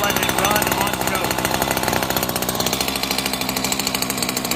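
A Stihl FS94R brush cutter fitted with a steel blade idles on choke, its small two-stroke engine putting out a steady, rapid pulsing rattle that carries loud and close throughout.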